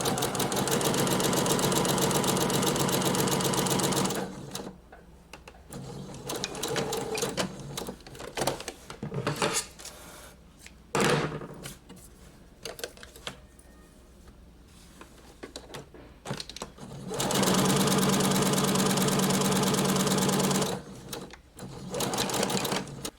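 A sewing machine runs in long continuous bursts while stitching the lower seam of a puff sleeve cuff, loud and steady, stopping briefly between runs with quiet handling noises.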